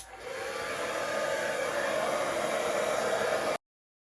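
Hair dryer blowing out a small puddle of acrylic paint during a Dutch pour, a steady loud close whoosh that starts abruptly, runs for about three and a half seconds, then cuts off.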